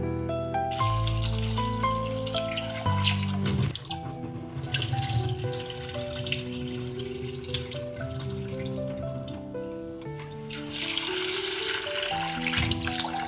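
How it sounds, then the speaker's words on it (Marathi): Cut potatoes rinsed under running tap water in a kitchen sink, a continuous splashing flow that carries on steadily beneath background music. "आता हे आपण दोन पाण्याने स्वच्छ धुवून घेऊया"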